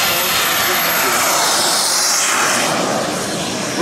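A Carf Models F-100 turbine model jet, running on kerosene and diesel, takes off at an outdoor flying demo. Its loud, dense roar holds steady across the whole short stretch, close and overpowering.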